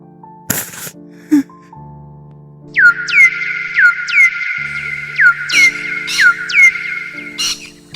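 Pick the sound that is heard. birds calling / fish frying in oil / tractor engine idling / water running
birds calling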